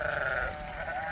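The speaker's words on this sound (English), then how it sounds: "Here, sheep. They're coming over to maybe get a drink of water." Sheep bleat in a rented pasture as they approach, a short wavering call at moderate distance over faint outdoor background.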